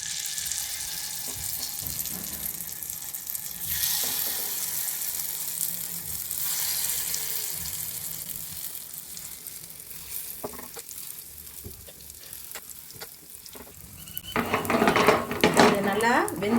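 Chettinad kara paniyaram batter is poured into hot oil and fries with a steady crackling sizzle, punctuated by clinks of utensils and a louder burst of frying near the end.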